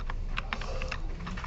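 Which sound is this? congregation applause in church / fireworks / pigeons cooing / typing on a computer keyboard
typing on a computer keyboard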